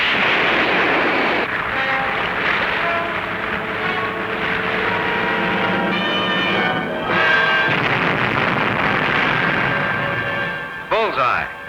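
A wartime submarine fires a torpedo, heard as a loud sustained rushing roar with tonal engine-like whine, ending in a sharp burst of blasts; a dramatized 1940s Pacific naval scene.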